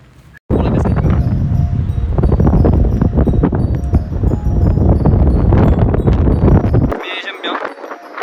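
Wind buffets a microphone on a campsite rooftop, a loud, rough, continuous rumble that starts abruptly and cuts out near the end, with voices briefly audible around it.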